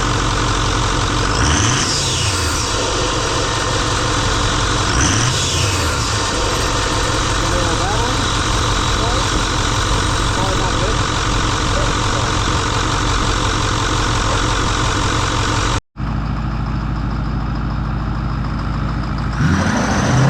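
A 6.4 Powerstroke diesel engine runs after a turbo rebuild, a loud, steady idle with deep low rumble and a few rising whooshes early on, broken by a brief dropout near the end.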